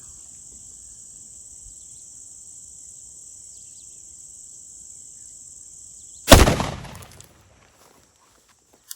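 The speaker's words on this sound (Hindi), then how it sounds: "तो अभी हम पहला फायर कर रहे हैं आपके साथ।" A single sharp gunshot cracks out while a rifle is zeroed through a telescope or red dot sight, loud and close, with a short decaying echo, following a stretch of steady insect chirring.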